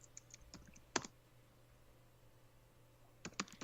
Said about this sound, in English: Don't slam your keyboard.